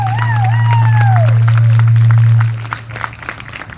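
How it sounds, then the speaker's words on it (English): An audience claps and cheers for a panel of speakers, scattered applause rising under a loud low hum and a sliding tone, then thinning into a few separate claps. "Can we get one more round of applause for the panelists?"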